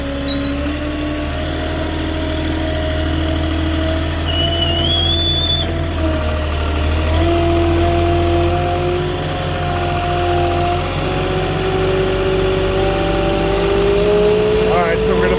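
A Moffett truck-mounted forklift's engine runs through a siding delivery, a steady loud drone with shifting pitch as it revs, close throughout, with faint mechanical whines above it.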